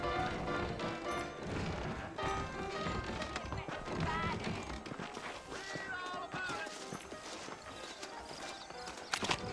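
Horse hooves clip-clop on a trail in the Red Dead Redemption video game, with a horse neighing now and then. The hoofbeats run steadily under game music and ambience throughout, and characters talk over them.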